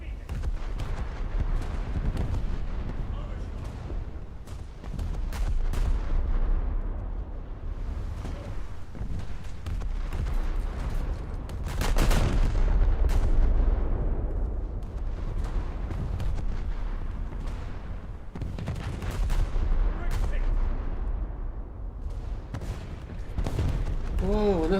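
A warship fires an artillery broadside in War Thunder, heavy booming volleys rolling in repeated waves over a dense rumbling bed, while a voice talks through parts of it.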